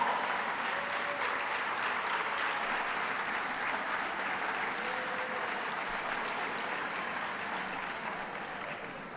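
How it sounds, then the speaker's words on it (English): Sustained applause from an audience at a public announcement, a steady wash of clapping that holds evenly for several seconds and slowly fades toward the end, with no voices over it. "Let's give him a big round of applause."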